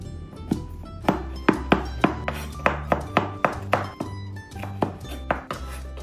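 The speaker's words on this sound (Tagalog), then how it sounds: "ang luya, tadtarin ko lang." Ginger being chopped with a knife on a cutting board for traditional Filipino cooking, a steady series of crisp, fairly loud knocks in a quick irregular rhythm, close up with no talk.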